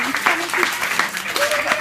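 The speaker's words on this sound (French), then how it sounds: "Ok, oui, on peut l'applaudir." Short burst of audience applause for a child named Noé at a magic show, steady clapping with some voices mixed in.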